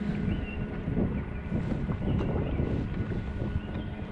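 Bixpy electric motor pushing an Old Town Predator PDL kayak at half speed on open water, a steady low churning hum with constant wind buffeting the microphone, no voices.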